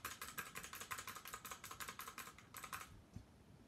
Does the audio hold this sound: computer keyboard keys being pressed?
yes